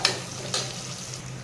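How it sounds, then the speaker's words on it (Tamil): One large tomato sautés in a pan for tomato rice, giving a brief, soft sizzle with two quick crackling bursts. "ஒரே ஒரு தக்காளி தான் போட்டிருக்கேன். நல்லா வதங்கட்டும்."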